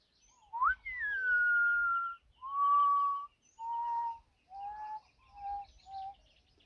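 A man whistles an imitation of the common potoo's call, with a rising opening note and a series of descending mournful tones, each shorter and lower than the last, clear and close in a quiet setting.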